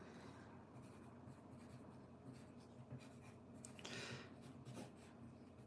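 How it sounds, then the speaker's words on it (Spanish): A pencil scratches across paper while sketching a graffiti piece for a sticker, a quiet, close, continuous scribbling with short strokes and a brief harder rub near the end. "Por ejemplo, a lápiz, pues puedo hacer como una pieza."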